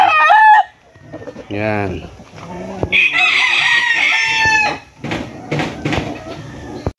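A pure high-action Spangle gamefowl rooster crows loudly and close, a strained drawn-out call among clucks from other chickens at a cage, with someone talking briefly around it.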